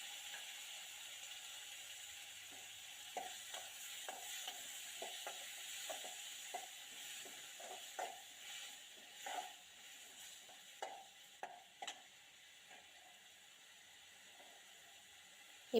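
Tomatoes frying in a pan for sambar make a quiet, low sizzle, broken by scattered clicks and light scraping taps, with no talking.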